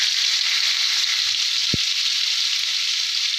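Butter sizzling in a hot pan, a loud, steady, close hiss of frying that holds evenly throughout, with a single faint tap partway through and no talking.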